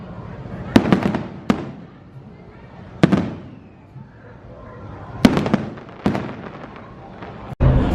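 Mickey's Mix Magic fireworks show near the castle at Disneyland, with loud close booming bursts arriving in irregular clusters over a steady crowd murmur.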